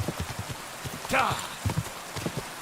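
Horse hooves clip-clop in a steady rhythm on a road in Kingdom Come Deliverance 2, close and clear, with a voice speaking briefly over the trotting.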